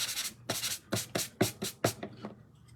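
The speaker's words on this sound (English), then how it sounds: "I'm just going to sand it just a little bit." Six short, even strokes of sandpaper rub lightly across a decoupage piece, close and crisp in a steady rhythm, then quiet.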